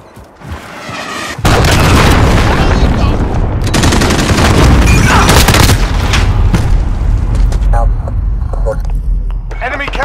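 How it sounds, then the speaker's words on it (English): Heavy explosions and booming blasts roll on almost nonstop in a Call of Duty: Modern Warfare Hardpoint match as a cruise missile strikes, loud and dense with gunfire mixed in, easing slightly near the end. "Enemy cruise missile incoming!"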